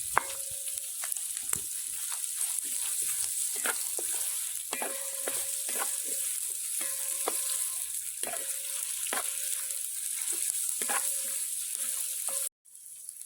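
Chicken stew ingredients cook in a pan with a steady, moderate sizzle while a utensil stirs and scrapes, giving a run of soft repeated knocks; the sound cuts off abruptly near the end.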